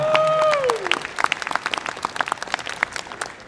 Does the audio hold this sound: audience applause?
yes